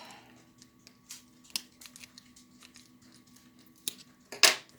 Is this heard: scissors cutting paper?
yes